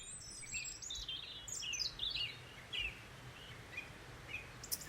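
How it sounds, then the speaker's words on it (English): Several birds chirp and call in a dawn chorus at Glenwillan, in quick overlapping phrases over a soft, constant background hiss, fairly distant and moderately quiet. "And those birds were the Dawn Chorus in Glenwillan."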